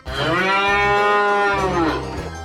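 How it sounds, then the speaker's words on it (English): A single long cow moo rises, holds steady with a rich harmonic tone, and falls away near the end; it is loud and close, heard alone without talk, in a children's farm-animal sounds sequence. "cow,"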